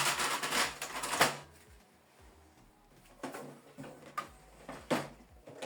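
Plastic paper tray of a Brother MCP-L2800DW laser printer being adjusted, with a few sharp sliding clacks and knocks, close and fairly loud, separated by quieter gaps.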